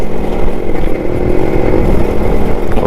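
A Suzuki Shogun motorcycle engine runs loud and close, a continuous throaty rumble with slight revving surges and mechanical clatter and no talk.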